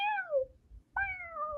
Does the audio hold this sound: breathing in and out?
no